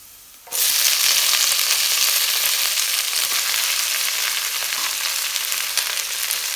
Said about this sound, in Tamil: சின்ன சின்னதாக நறுக்கி வச்ச கீரையை சேர்த்துக்கலாம்